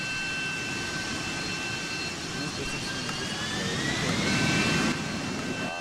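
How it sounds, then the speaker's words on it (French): A sustained, loud roaring engine whine with steady high tones that bend slightly, a combat helicopter in the online game Ocean Wars, continuous throughout. "ça c'est un hélico, donc un hélico de combat avec lequel vous pouvez balancer des missiles"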